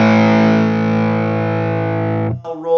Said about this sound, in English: you can bring it into a much higher gain than a lot of people generally use this pedal, but a pretty sizzling distortion